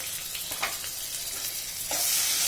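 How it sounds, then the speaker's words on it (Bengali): Onion frying with ginger paste gives a soft, steady sizzle and scrapes from stirring at close range. The hiss swells louder near the end, and no one speaks. "ভাজা হয়ে গেলে এখন আমি কিছু আদা পেস্ট দিলাম।"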